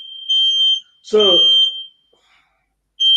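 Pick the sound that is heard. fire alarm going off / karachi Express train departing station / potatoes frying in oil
fire alarm going off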